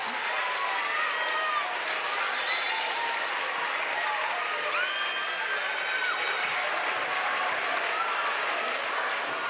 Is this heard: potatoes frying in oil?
no